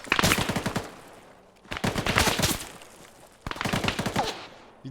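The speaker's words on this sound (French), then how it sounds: "Il tire à travers les murs, faites gaffe." Automatic weapon fire in the military simulation game Arma 3 comes in three rapid bursts of shots, each a couple of seconds long, with short gaps between them and a fairly distant, moderate loudness.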